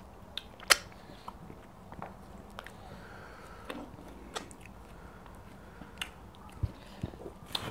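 Meat being eaten with Nigerian ogbono soup, close chewing and biting sounds, faint and irregular, with one sharper bite early on and a few soft clicks over a quiet room.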